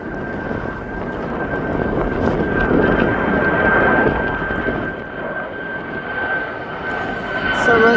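A jet airliner takes off at East Midlands Airport, its broad engine roar holding steady and loud throughout, swelling toward the end with a steady high whine riding above the rumble.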